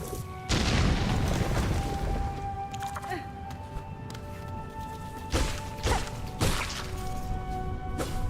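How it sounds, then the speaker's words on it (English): An explosive wall in the game Hollow Knight Silksong is struck, giving a loud booming crash with heavy thuds and a few sharp whacking hits over a sustained game soundtrack. "It would also be rude to not hit this explosion thing on the wall."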